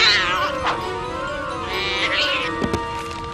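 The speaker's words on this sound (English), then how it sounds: "The sacred cat will go first." A sacred cat meows amid a tense scene from an animated film, the cries rising and falling near and clear over a music and effects bed, with light voice-like sounds faintly present.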